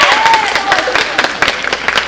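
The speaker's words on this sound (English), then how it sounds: "I didn't know we were bringing cheering sections." A graduation crowd cheers and applauds for a high school principal being introduced at a summer school ceremony, with dense clapping and scattered whoops filling the hall, loud and close throughout.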